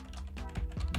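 Fast typing on a computer keyboard, a short burst of close, crisp key clicks in quick uneven rhythm, heard alone without speech.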